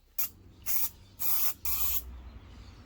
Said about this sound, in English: I'm just gonna spray paint it with lacquer